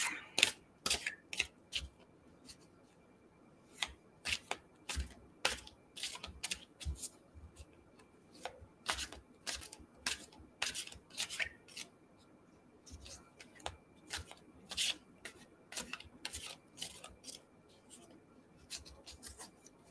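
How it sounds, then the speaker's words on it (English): A deck of tarot cards is shuffled close by in repeated quick bursts of riffling and flicking, separated by short pauses over a quiet background. "I have to shuffle until it feels right"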